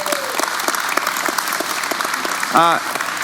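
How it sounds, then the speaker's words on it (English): Audience applause at a community update meeting, steady crowd clapping throughout with a brief voice rising near the end. "Can we just clap and thank?"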